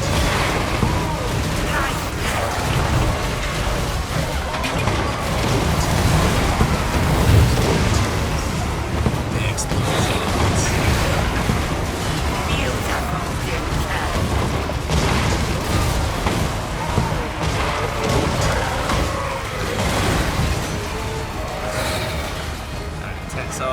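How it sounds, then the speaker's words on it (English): Continuous booming satchel-charge explosions and crashing battle noise from Total War: Warhammer, dense and loud throughout, with a voice talking over the chaos. "here come the Iron Breaker satchel charges, causing all sorts of explosions."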